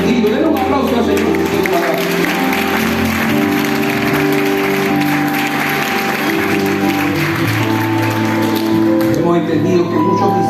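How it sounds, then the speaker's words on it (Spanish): A congregation at a church revival service applauds steadily and loudly throughout, mixed with sustained music and voices. "Denle un aplauso al Señor"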